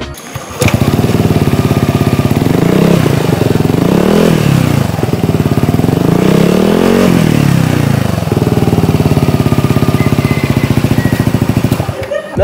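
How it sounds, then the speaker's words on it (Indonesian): A 2020 Yamaha NMAX scooter with an Arrow full-system exhaust idles loud and close, then revs up twice in rising and falling sweeps before settling back to a steady idle. "Knalpot menggunakan Arrow."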